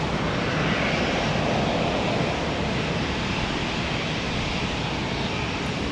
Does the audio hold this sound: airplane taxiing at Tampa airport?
yes